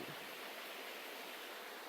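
Lithia Park creek flowing, a steady close hiss of rushing water with no other sounds.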